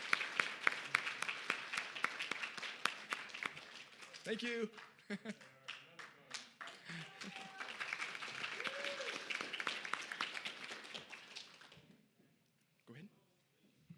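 At an evening Worldwide Marriage Encounter gathering, the audience claps for a meal. Lively applause rises, dips while a person briefly speaks, then swells again before fading to quiet.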